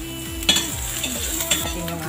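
Ginger frying in oil reused from frying fish, giving a steady close sizzle with a few clinks and stirring scrapes of a utensil in the pan, no voices.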